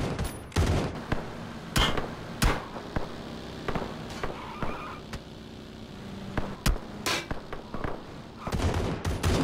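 Win94 rifle gunfire in the video game PUBG cracks out in sharp, irregular shots, some close and loud, others fainter and distant, over a low steady background.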